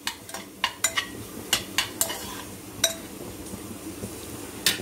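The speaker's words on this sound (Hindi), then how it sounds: "इसको थोड़ा सा चला देंगे, इससे थोड़े से मसाले ये भून जाए" A spoon or spatula stirring spices and coriander in a pan while they roast, giving a string of sharp metallic clinks and scrapes at an uneven rhythm over a soft frying hiss, close and fairly quiet.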